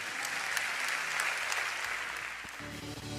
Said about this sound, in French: Alléluia, sous nos acclamations pour le Seigneur.